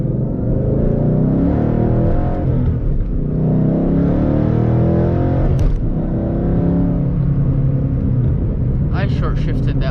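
A manual Ford Mustang GT pulls hard under acceleration, its engine rumbling loudly through a short upshift with a brief dip in the drone before it climbs again, heard from inside the car.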